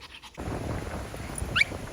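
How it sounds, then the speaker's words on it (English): A puppy lets out a single short, high yelp near the end, over steady outdoor background noise with no other clear barks. "What are you barking at?"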